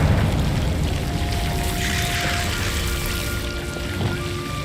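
A Confringo fire spell blasts in the Hogwarts Legacy video game, a loud, rumbling, crackling explosion that roars steadily for several seconds and slowly fades, with no talking.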